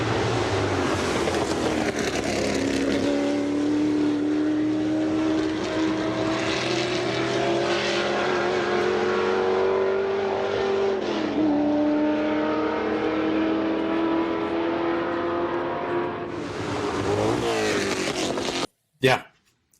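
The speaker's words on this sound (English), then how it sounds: "It's the Ford GT40." Ford GT40 race car engine, a loud sustained drone with steady then shifting pitch as it rises and eases, running near and continuous for most of the clip before cutting out abruptly.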